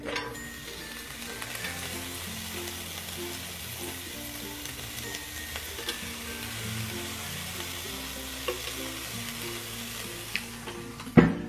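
Skewers sizzling inside a hot CHEFREE AFG01 grill air fryer, a steady close crackle and hiss that holds throughout, with a few faint clicks and a clunk at the end.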